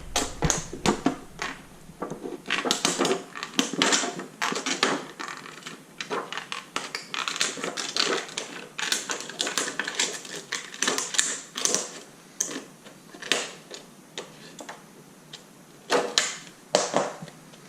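Scissors snip through thin copper sheet in a steady series of crisp, close, scraping cuts with short pauses between strokes.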